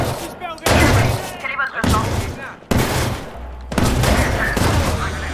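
Shotgun blasts in the video game Watch Dogs 2 come as four loud, heavy booms spaced about a second apart, each trailing into a rumbling tail, with someone talking between shots.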